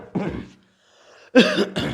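A single harsh cough bursts out, then a short pause before a second, longer throaty cough, close and fairly loud.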